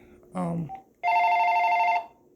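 An AT&T SL82218 cordless phone handset rings once on tone 0, a loud, steady electronic trill lasting about a second, just after a brief spoken word nearby.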